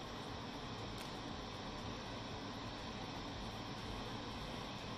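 A loud, steady rush of air from an air purifier fan running at its highest speed, a constant broadband whoosh with no variation or pauses.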